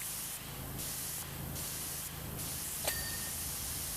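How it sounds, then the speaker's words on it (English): Pressure washer spraying in the video game PowerWash Simulator 2: a steady, loud hiss of water jet running continuously, with brief dips in the high spray texture and a short bright ping near the end. "Try to get this sprayed off."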